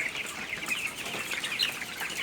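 Chickens being raised and fed for fattening cluck softly on a farm, a busy overlapping stream of short chirpy calls at moderate distance, with no voices.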